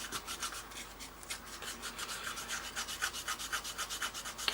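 Sanding by hand on the front intake of a Tamiya 1/32 F-16CJ plastic model, a quiet rhythmic rasping of quick back-and-forth strokes, close up and alone.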